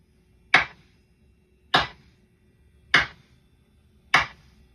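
Four sharp snare drum hits from a sample played on an E6400 sampler, evenly spaced about 1.2 seconds apart, each with a crisp attack and short decay, heard alone with no other instruments.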